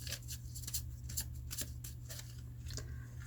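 Tarot cards are shuffled and drawn for a love-timing reading, giving soft repeated riffling and slapping card sounds in quick bursts over a steady low hum, close and moderately quiet.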